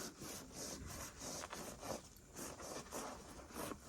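A knife saws through a soft homemade brioche hamburger bun, giving repeated close, rhythmic scraping and rasping strokes with no talking.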